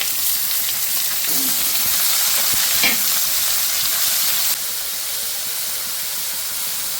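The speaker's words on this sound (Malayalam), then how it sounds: "ഒരുണ്ട വെളുത്തുള്ളിയാണ്, 4 വലിയ സവാളയാണ് ചെടി. ഇത് നല്ലോണം ഫ്രൈ ആയിട്ട് വരണം" Garlic and large onions frying in a pan for a Kerala-style pork fry, a loud, continuous hiss and sizzle close by, with a faint stir or two and no talking.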